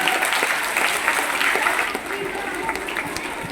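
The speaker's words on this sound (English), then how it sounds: "let's give a huge round of applause for everybody" Audience applause at a school inter-house orchestra competition, dense sustained clapping from a crowd with cheering voices mixed in, easing slightly in the second half.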